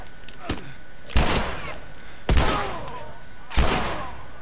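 Three loud, sharp gunshots in The Last of Us, spaced about a second apart, each with a ringing tail, and a fainter shot just before them.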